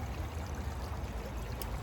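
Water pours steadily into a small metal camp stove pot, a continuous soft trickling stream close by with no talk over it.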